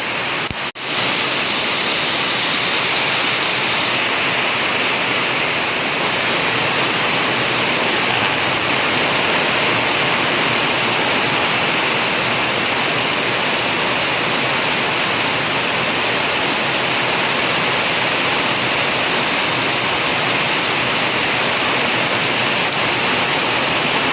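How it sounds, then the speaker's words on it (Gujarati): Heavy rain pours down on a farm in a dense, unbroken roar of steady hiss that stays loud and even throughout, with no voices. "ફૂલે ફૂલ વરસાદ ચાલુ છે મિત્રો"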